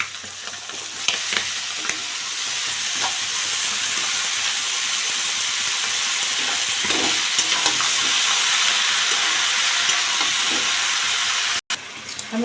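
Snake gourd frying in a pan as its water cooks out: a steady, close hiss and sizzle with occasional stirring scrapes and small pops throughout, with no voices.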